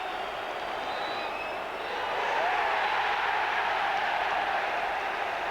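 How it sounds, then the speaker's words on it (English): Football crowd at the Arsenal versus Manchester United match of the 1995/96 season cheers for goalkeeper David Seaman, a steady distant roar that swells slightly partway through. "And listen to the cheer for David Seaman"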